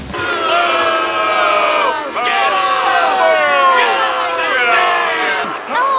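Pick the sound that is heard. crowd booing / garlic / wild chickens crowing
crowd booing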